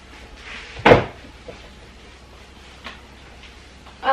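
A kitchen drawer or cupboard is knocked shut during cleaning, a single sharp close thump, with faint small clicks and a second softer knock near the end against quiet room tone.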